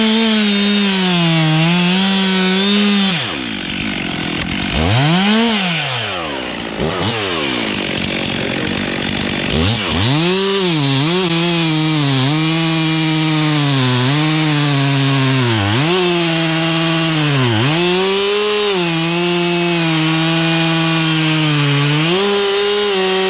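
A chainsaw cuts through an ash tree limb during tree rigging work, its engine loud and close, revving and bogging as it bites into the wood, then dropping briefly before climbing back to a sustained high-pitched whine for the rest of the cut.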